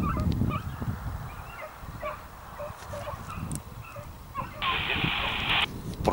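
Several dogs bark and yip in short bursts while chasing across an open field, fairly close, with a person talking over them.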